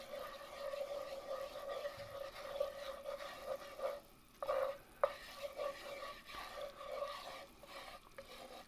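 A spoon stirs and scrapes roux in a pot for Cajun chicken, sausage and andouille gumbo, with soft repeated scraping strokes over a steady low sizzle and a few sharper knocks against the pot.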